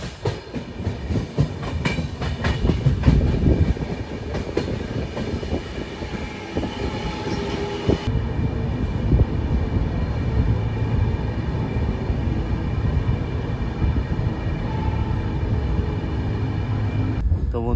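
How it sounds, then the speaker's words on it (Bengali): The Uttarbanga Express passenger train rolls into New Farakka Junction with a steady rumble and rhythmic clickety-clack of wheels over rail joints, loud and close from inside, continuing throughout. "আমাদের ট্রেন এখন ঢুকছে নিউ ফারাক্কা জংশন।"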